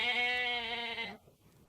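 A goat being bathed gives one long, loud, strained bleat lasting about a second, then falls quiet except for faint background noise.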